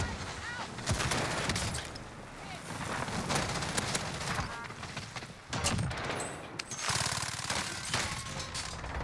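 Rapid FFAR assault rifle fire in Call of Duty on Rebirth Island, loud bursts of automatic gunshots in clusters with short pauses, under a voice talking.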